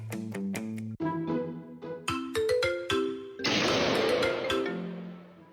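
A phone rings with an incoming call, a bright electronic melody of repeated chiming tones that plays loudly and alone for several seconds.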